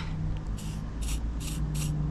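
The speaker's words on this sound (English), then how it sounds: "First, we're gonna spray this up." Short hisses from an aerosol spray can aimed at a stuck part, four quick bursts in a row, close and fairly loud over a low steady background hum.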